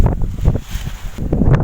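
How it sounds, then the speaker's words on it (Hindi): Strong wind gusts through the hills during a misty, drizzly day, buffeting the microphone with loud, uneven rumbling bursts that rise and fall over a couple of seconds. "हवा चल रही बहुत तेज़"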